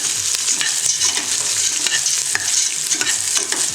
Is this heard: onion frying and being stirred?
yes